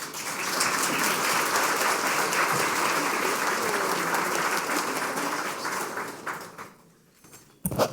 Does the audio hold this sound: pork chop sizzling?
no